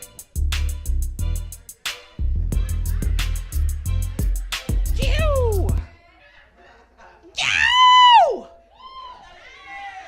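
A comedian on a comedy club stage talks loudly in bursts, pauses, then lets out a single high, drawn-out scream that rises and falls before trailing off, with faint audience noise between.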